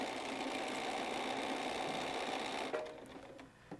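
A sewing machine stitches a half-inch seam on a pillow, running steadily and evenly for most of the clip before slowing and stopping near the end.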